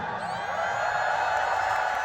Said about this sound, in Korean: 서로에게 박수 한번